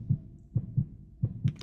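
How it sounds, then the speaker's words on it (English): A heartbeat sound effect with paired lub-dub thumps repeating at a steady, fairly quick pace, low and muffled, heard alone without talking. "Did you hear a heartbeat?"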